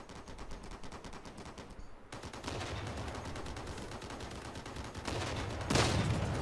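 Vehicle weapons fire in a Crossout clan-war battle as a dense, continuous rattle of rapid shots over a loud engine and combat roar, with a brief pause and then a heavier blast near the end.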